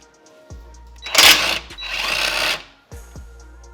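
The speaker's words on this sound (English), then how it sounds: "take a 17-inch socket and release this nut to get the toe arm off of the knuckle here" A socket wrench works a 17 mm nut on the rear toe arm of an FRS/BRZ/GR86 knuckle, giving two close bursts of rough mechanical whirring and rattling, framed by short metallic clicks before and after.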